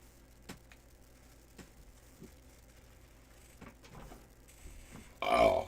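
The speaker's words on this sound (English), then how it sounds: "Rate that burp 1 through 10." A short, loud burp erupts near the end after several seconds of quiet room noise with faint knocks and rustles.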